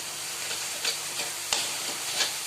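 Garlic and onion paste fries in a pan with a soft, even sizzle, broken by a few faint stirring scrapes and ticks.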